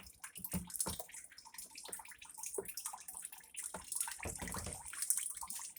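Pork chitterlings are sloshed and washed by hand in a bucket of apple cider vinegar and water, with repeated close splashing and swishing water sounds throughout.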